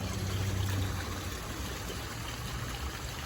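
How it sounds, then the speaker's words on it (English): Water rushing steadily past an old water wheel on the Edisto River, a continuous broadband outdoor flow with a low rumble underneath, close and even throughout. "this is the old water wheel back here at the Edisto River"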